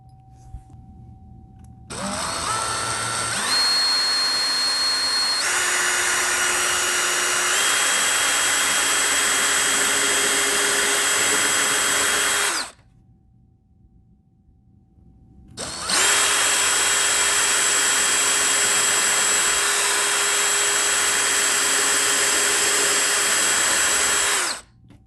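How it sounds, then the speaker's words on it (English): A power drill bores into dense wood in two long sustained runs with a steady high whine, separated by a brief pause as the bit is backed out to clear chips. "If you have dense wood, you can do what I'm doing here and just drill part way back out to let the bit clear out."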